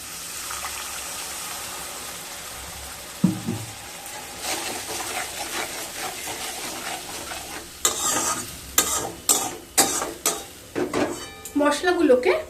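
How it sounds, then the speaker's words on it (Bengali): Spice masala with salt stir-fried in a pan over a low to medium flame for potol chingri, a faint hiss at first, then a burst of sizzle and repeated scraping, clinking strokes of a utensil against the pan. "দিয়ে খুব ভালোভাবে লো টু মিডিয়াম ফ্লেমে কষিয়ে নেব"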